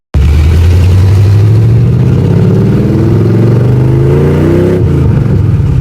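A drift kart engine runs loudly and close after a coolant hose was put back on, its low drone rising steadily in pitch as it revs, then dropping sharply near the end.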